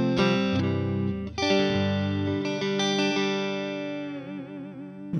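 Electric guitar with single-coil pickups played through a Fender amp and cab simulation in Overloud THU, sounding a few sustained chords and notes that ring out with a wavering chorus-like shimmer as they fade.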